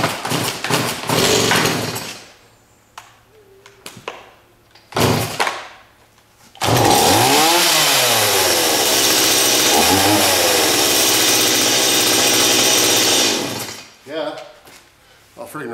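A Stihl MS-170 chainsaw is pulled and started, with knocks and sputters before it catches and runs at a loud sustained roar, revving up and down as it cuts wood, then dropping back.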